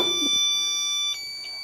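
A steady electronic alarm tone like a phone alarm, holding a high pitched ring throughout while fading slightly partway.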